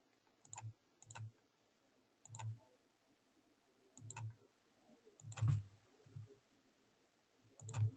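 Computer mouse clicks while drafting lines in BobCAD-CAM software, sounding as sharp isolated clicks, single and in quick pairs, spaced a second or two apart, close and fairly quiet with no talk.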